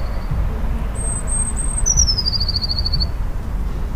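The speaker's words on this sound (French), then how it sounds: "au niveau du chant de cet oiseau, il est assez particulier, il est assez mélodieux" A blue tit (Cyanistes caeruleus) sings a few thin, high notes, a short trill and then a descending run, fairly clear over a low steady outdoor rumble.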